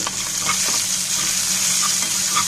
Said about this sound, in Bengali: সবগুলো উপকরণটা আমি এবার ভেজে নিব